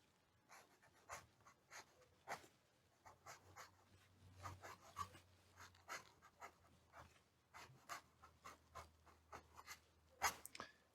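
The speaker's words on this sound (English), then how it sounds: "So now we'll do a quick writing sample." A budget twisted-design fountain pen with a hooded nib scratches across paper in a series of faint, quick strokes, with brief pauses between them and a low hum underneath.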